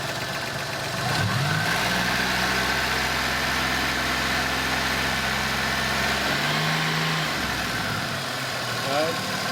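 A Holden Commodore 3800 V6 holds a steady raised rev around 3,000 RPM after a quick blip up from idle, drops back briefly, then climbs again, close and continuous with a dull mechanical hum.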